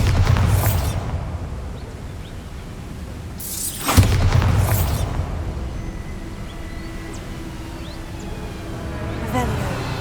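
In Hogwarts Legacy, the Bombarda spell goes off in deep, booming bursts, one at the start and another around the middle, each followed by a rumbling tail over steady game ambience.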